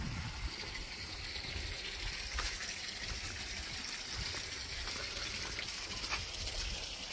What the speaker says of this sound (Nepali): यो माथि जङ्गलको फेदबाट आएको पानी